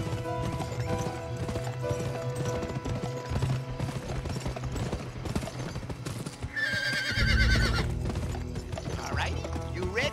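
In the Western video game GUN, a horse gallops nearby with a steady, rhythmic clip-clop of hooves during a horse race against Honest Tom. Loud whinnies and neighs break out near the end, and a voice murmurs faintly underneath.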